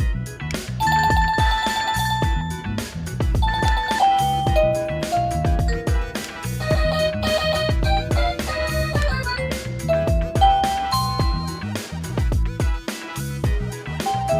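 Bright electronic chime melodies from a wireless doorbell play one after another, each a short tinkling tune of bell-like tones, fairly loud with no talking.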